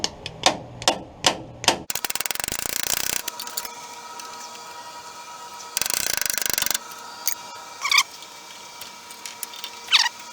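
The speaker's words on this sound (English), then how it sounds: "Hammer." A hammer strikes U-bolts on the leaf springs of a 1947 Willys CJ2a Jeep, first in a quick run of sharp close metallic blows, then a scraping grind and more scattered hits.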